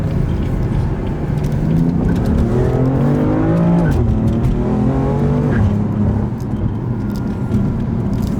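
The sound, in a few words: car accelerating, chirping tires on gear shifts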